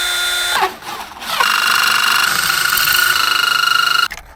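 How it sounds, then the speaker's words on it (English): A cheap drill saw attachment cuts through the lip of a Corvette C5, giving a loud, steady high-pitched whine with brief drops near the start before it runs continuously and stops abruptly. "we will be making an outline right here using my drill saw attachment"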